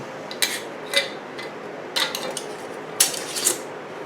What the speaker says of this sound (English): And then I'm just going to put a lid on it.